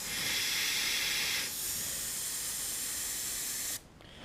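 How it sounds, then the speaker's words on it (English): An airbrush spraying paint makes a continuous close hiss that shifts in tone partway through as the brush pulls back. It stops abruptly near the end, leaving a faint softer hiss. "just kind of pull back the airbrush, just let the overspray get out there a little bit"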